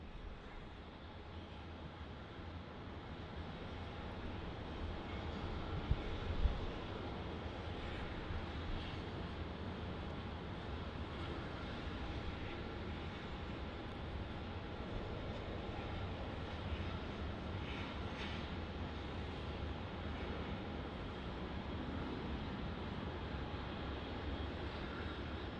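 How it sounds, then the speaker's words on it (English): A Qantas Boeing 737-800 on flight QF409 from Sydney lands at Melbourne Airport, making a steady, broad jet roar that holds evenly throughout at moderate distance, with no voices. "this one on your screen is QF409 coming in from Sydney. It's another Boeing 737-800 for Qantas"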